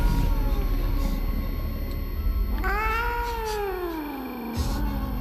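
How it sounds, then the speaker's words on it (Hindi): A big cat snarls and yowls in a long, loud, wavering cry that rises then falls as it pounces, a horror-story effect over a steady background hum. "तभी पेड़ से एक बड़ी सी बिल्ली मेरे ऊपर बुरी तरह झपटी"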